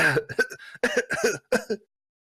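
A voice imitates coughing in several short hacking bursts, with throat-clearing sounds, close and fairly loud, then silence.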